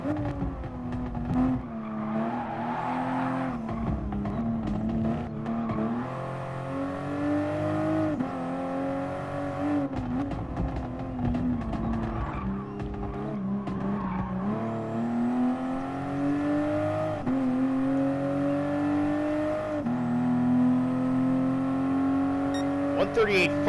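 Toyota Supra race car engine in Gran Turismo Sport, revving up and down through gear changes in a steady lapping drone, with someone talking over it throughout.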